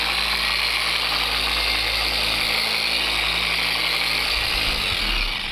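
A handheld polishing tool turns at about 2000 RPM while buffing a plastic car headlight, a steady close whirring drone that holds level throughout and dips slightly near the end, with no talking.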